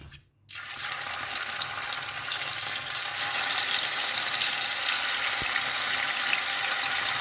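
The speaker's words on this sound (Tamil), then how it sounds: "இது இப்போ பொரிச்சிக்கலாம்." Oil crackles and sizzles loudly and continuously as baby shark fish fries, after a brief quiet start, a dense frying hiss that holds steady throughout, with one soft thump partway.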